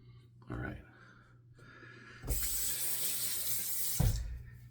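Hot water runs from a bathroom tap in a steady broadband hiss for about two seconds, with a splash-like burst at the end as a razor blade is wetted before a wet shave with a Gem OC Micromatic; a voice speaks briefly beforehand.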